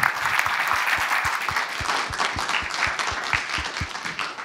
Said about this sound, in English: let's give Gráinne a round of applause